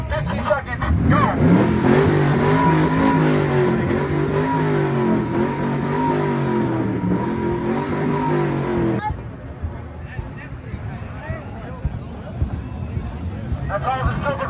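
A supercar at a car meet revs its engine hard for several seconds in a loud, sustained roar with rising and falling pitch, then drops to a lower idle, while a crowd chatters and calls out around it.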